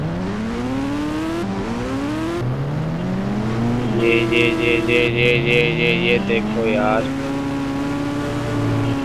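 Loud, steady video-game car engines drone and rise in pitch as they rev, with a harsh metallic crash partway through and someone talking briefly over them.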